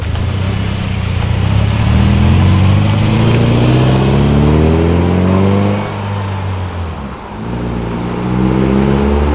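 Subaru Crosstrek fitted with a Nameless aftermarket exhaust, a loud close engine note rising and falling through revs, with a deep gurgling burble and a dip as the throttle lifts, no talking.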